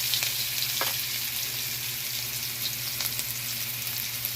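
Steady, quiet sizzling of onion and garlic sautéing in a hot pan for ginataang gulay, with a couple of faint stirring clicks over a constant low hum.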